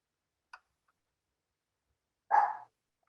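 A dog gives a single short bark off in the background, heard faintly at a distance, with a tiny click just before it and near silence around both.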